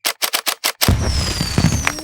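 Cartoon fireworks display at a Chinese New Year party: five sharp rhythmic bangs in quick succession, then a loud crackling burst with fizzing whistles trailing off, with no voices.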